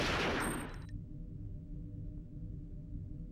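Burst of video game gunfire at the start, loud and close, then dropping to a low, steady game ambience with no talking.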